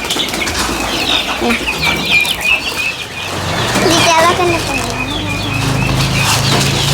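Pigeons gather close by, flapping their wings in bursts while soft cooing and chirps rise over a busy, fairly loud background.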